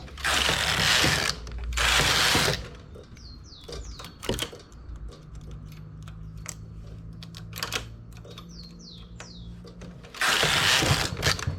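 A domestic knitting machine with a double bed works ribbed stitches. Loud, rasping carriage passes sweep across it at the start and the end, with softer clicks, ratcheting and needle clatter between them.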